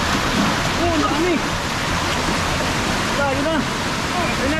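Water from an opened dam gate pours out as a loud, steady roar of rushing water, with people talking faintly beneath the continuous torrent.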